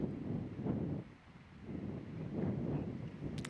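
Gusts of wind buffeting a golf course, rising and falling in a few swells, fairly quiet with a brief lull in the middle.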